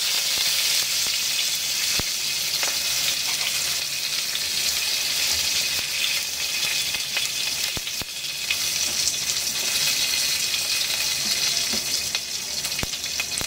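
Mustard seeds and curry leaves sizzle and crackle steadily in hot oil for a Marathi-style dahi kadhi tempering, with a continuous hiss and occasional sharp pops, close and alone without speech.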